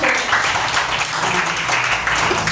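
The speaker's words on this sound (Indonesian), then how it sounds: "tepuk tangan untuk kita semua" A kindergarten room full of people claps steadily, a dense continuous patter of applause at moderate loudness.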